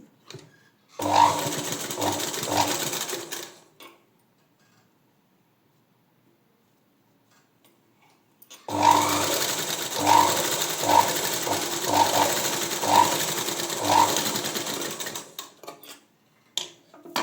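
A sewing machine top-stitches fabric layers for a dori hanging in two close bursts of rapid mechanical whirring and clicking, separated by a few seconds of silence.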